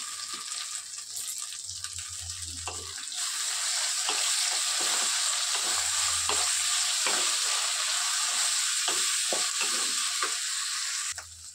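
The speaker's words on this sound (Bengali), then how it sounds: "এবারে আমি এর মধ্যে আদা রসুনটা একসাথে বেটে রেখেছিলাম, সেটা দিয়ে দেবো।" Ground ginger and garlic paste fries in a pan with a steady, loud sizzle, while a utensil scrapes and stirs in repeated short strokes throughout.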